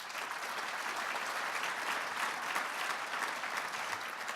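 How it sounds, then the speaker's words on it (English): Sustained applause from a breakfast event audience, steady and dense throughout, with many hands clapping at once and no break. "Please give her a round of applause."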